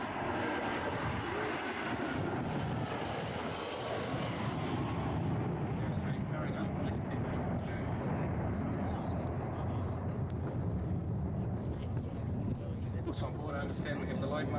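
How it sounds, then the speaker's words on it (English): A Royal New Zealand Air Force No. 40 Squadron Boeing 757 roars past on its first pass at an air show, a loud broad jet rumble swelling and sweeping overhead with a whine fading, wind buffeting the microphone. "So here comes the aircraft for its first pass."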